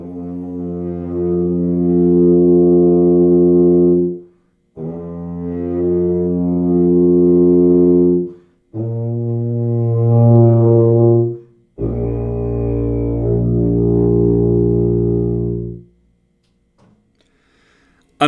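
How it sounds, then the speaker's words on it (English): Tuba played with the back and front teeth held open, sounding four long, sustained low notes in a row, loud and steady with short gaps between them, heard alone. "And it sounds like this on the tuba."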